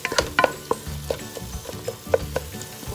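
Shrimp sofrito for Mexican-style shrimp sizzles in a frying pan while a spoon scrapes and stirs it in a few quick, clattering bursts, close and steady, with no talking.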